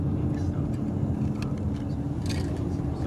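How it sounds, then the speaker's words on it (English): Dense highway traffic on the 75 heard from inside a moving car, a continuous low rumble of tyres and engines with faint passing whooshes, while a voice talks over it. "Look at all that traffic."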